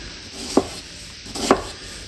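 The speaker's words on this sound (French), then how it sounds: "Là, l'oignon, on le coupe comme ça." A knife cuts through an onion on a board in two separate crisp chops, each a short slicing crunch in an otherwise quiet kitchen.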